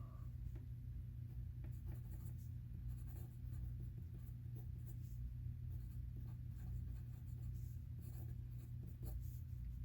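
Fountain pen nib scratching steadily across paper at close range, a continuous soft rubbing with small strokes, over a low steady background hum.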